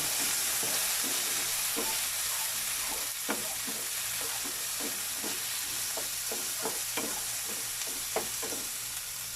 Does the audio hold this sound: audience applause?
no